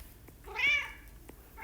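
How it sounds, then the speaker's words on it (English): Indoors, a pet cat gives one loud, clear meow, short and bending in pitch, near the microphone, followed by faint room noise and a soft tap. "Excuse my loud cat."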